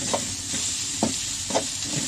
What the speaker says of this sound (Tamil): இப்போ நம்ம இடித்த இஞ்சி பூண்டை போட்டு வணக்கிடலாம்